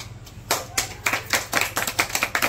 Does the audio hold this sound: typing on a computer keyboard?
no